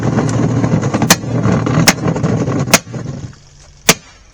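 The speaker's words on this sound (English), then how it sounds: "That sounds like a firework going off." Several sharp, loud bangs go off at irregular intervals, about four cracks over steady rumbling machinery, matching silver salute firecrackers set off to destroy an RV washing machine.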